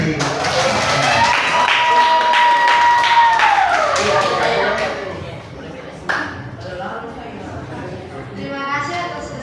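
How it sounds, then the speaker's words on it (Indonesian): A classroom group of students claps in applause for the kinesthetic group, a steady patter of hands mixed with chatter and a sustained tone, fading as a speaker begins. "Kita beri aplaus untuk kelompok kinestetik"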